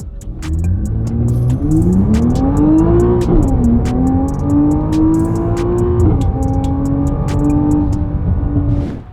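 A 700 hp Nissan GT-R Nismo pulls loud and close with a steady engine drone that shifts pitch as it brakes from 80 mph toward a stop, with no talk over it.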